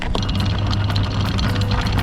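A boat's engine running hard in reverse at about 2,000 revs while anchoring, giving a steady low throbbing drone with broadband churn, close and continuous throughout.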